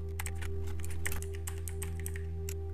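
Keys clatter on a computer keyboard as a search is typed into a browser tab, a quick run of light clicks over a steady electrical hum, close and fairly quiet with no talking.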